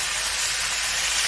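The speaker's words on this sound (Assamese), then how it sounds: "কম তেলত ভাজিছোঁ।" Greens with spring onion, leafy herbs and spinach frying with garlic in a small amount of oil, giving a steady close hiss and sizzle throughout with no talk.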